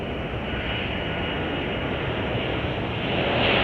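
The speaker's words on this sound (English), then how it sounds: "And while Korean Air moves further down the taxiway here" A Korean Air airliner taxis at Chicago O'Hare airport, its engines producing a continuous, loud, even roar that swells slightly toward the end, with no voices.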